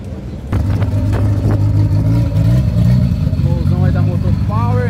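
A Volkswagen Gol drag car at Interlagos, São Paulo, rumbles loudly and steadily with a deep, strong engine note from close by, with someone talking over it.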